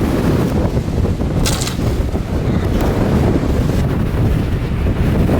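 Strong hurricane wind sweeps across a golf course, a loud, continuous roar that buffets the microphone without letting up, with no voices.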